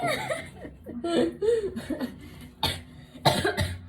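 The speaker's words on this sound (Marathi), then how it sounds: "खोकला येतोय." Bursts of coughing mixed with giggling and laughter among young cousins playing a blindfolded, deaf and mute food-tasting challenge at home, with a couple of sharp, close coughs standing out around the chatter and speech.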